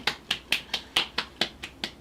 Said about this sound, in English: That's a polite clap.